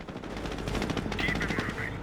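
Rapid machine-gun bursts in a Company of Heroes battle on the River Salient map, a dense continuous rattle of gunfire, fairly loud and close, with faint battlefield voices mixed in.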